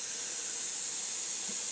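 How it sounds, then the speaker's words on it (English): An airbrush sprays Ultimate airbrush thinner through its nozzle, a steady close airy hiss sustained without a break. "I'm just going to spray a few drops of just standard Ultimate airbrush thinner through it"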